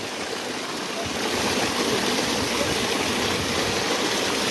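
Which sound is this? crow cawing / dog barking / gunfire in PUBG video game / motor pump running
motor pump running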